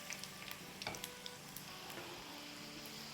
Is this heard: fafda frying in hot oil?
yes